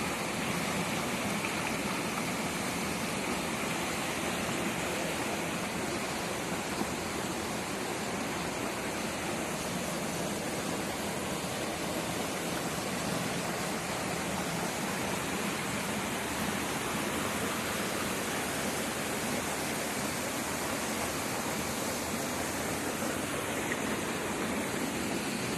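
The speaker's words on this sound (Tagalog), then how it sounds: "ang ganda ng daloy ng tubig." Clear stream water flowing at a nature spot in Dinggalan, a steady broadband rushing wash, close and unchanging, with no voices over it.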